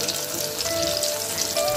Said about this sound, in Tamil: இந்த மஞ்சூரியனை ஒன்று ஒன்றா போட்டு நான் என்ன பண்ணிக்கிறேன்னா, இண்டிவிஜுவலாக எப்படி நம்ம ஒரு காலிஃப்ளவர் பக்கோடா வந்து நம்ம ஃப்ரை பண்ணுவோமோ அதே போல் நான் வந்து இதை ஃப்ரை பண்ணி